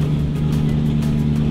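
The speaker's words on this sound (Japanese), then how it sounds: "今エンジン2機が入りました" Racing car engines run at a track during a four-hour endurance event, heard as a loud steady drone with a constant low hum throughout.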